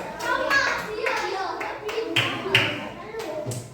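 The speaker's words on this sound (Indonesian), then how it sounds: "Tepuk tangan buat kelompok B." Children in a classroom applaud a group with a short burst of uneven clapping, close and lively, mixed with kids' chatter and a teacher's voice.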